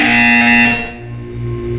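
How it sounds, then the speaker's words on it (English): A harsh electronic buzzer from the video game Portal 2 blares loudly for under a second and then cuts off, leaving a low hum. "When you hear the buzzer, look up at the ceiling."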